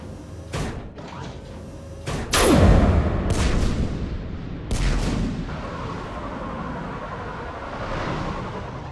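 Artillery guns fire in the sci-fi video game Mass Effect 3: a few heavy booms and sharp blasts ring out over a rumbling battle din, one shot trailing a falling whistle-like sweep.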